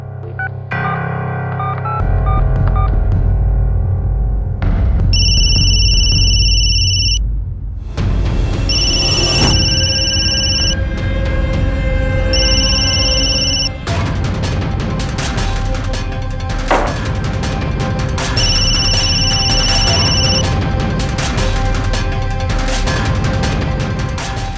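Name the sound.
telephone ringing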